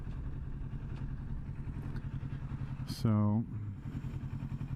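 A motorcycle rides along, captured by a helmet-mounted microphone: a steady, close engine drone with wind rumble runs throughout, with a brief spoken word partway through.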